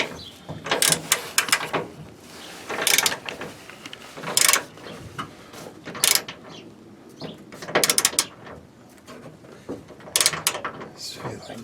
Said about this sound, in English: This is where an impact wrench really come in.